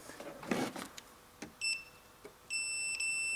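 Fuse tester beeping while probing a good car fuse: two steady high-pitched electronic tones, one short and one longer, sounding clearly after a few faint clicks and handling noises, with no talking.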